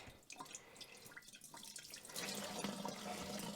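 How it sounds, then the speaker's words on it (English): Old, foul-smelling fuel drains from a rusted car fuel tank that sat for years, splashing and trickling steadily into a pail, the pour growing louder and fuller partway through. "This old fuel, I gotta drain it"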